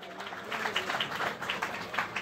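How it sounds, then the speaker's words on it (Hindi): A crowd at a religious jagran gathering claps loudly for the guru, with a brief burst of rapid, uneven clapping heard at a moderate distance. "जोरदार तालियां"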